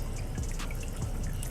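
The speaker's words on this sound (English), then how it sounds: "you need to drain your water tank every year and maintain your water tank" Water drains from a home water heater tank in a steady, faint rushing flow with light dripping.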